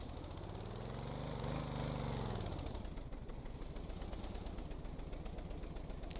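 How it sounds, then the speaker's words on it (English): A modular engine in the Stormworks game runs at full throttle, a steady loud droning roar with a rising and falling pitch sweep early on, then holding constant without any talk. "We'll start up our engine, we'll go full throttle."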